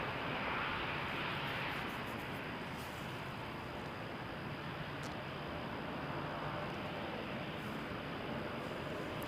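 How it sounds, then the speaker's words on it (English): A UPS McDonnell Douglas MD-11 cargo jet at Toronto Pearson gives off a steady, fairly quiet broadband engine rumble that stays even throughout, a distant drone with nobody speaking. "The UPS MD-11."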